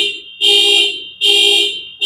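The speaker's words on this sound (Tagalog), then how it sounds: "Maingay yung isang sasakyan. Dahil nag-alarm siya." Car alarm sounding near a beach resort, a loud repeating two-tone electronic wail in long bursts with short gaps between them, with no voices over it.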